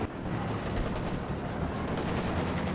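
Heavy artillery fire in the World War II strategy game Company of Heroes 2, heard as a dense, continuous rumble of thuds and blasts at a steady level, with no distinct breaks and no talk over it.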